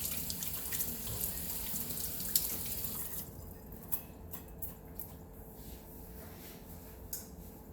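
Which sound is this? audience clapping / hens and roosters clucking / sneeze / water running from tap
water running from tap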